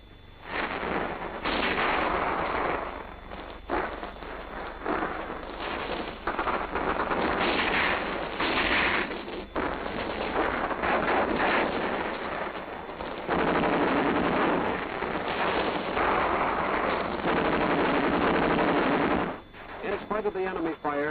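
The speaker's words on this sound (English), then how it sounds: "In the face of continued effective enemy fire, Sergeant Borden decides to move the men forward just one at a time." Repeated rifle and machine-gun fire in an infantry rifle squad attack, shots crackling in dense, irregular bursts and volleys throughout, loud and close, with brief lulls between heavy stretches.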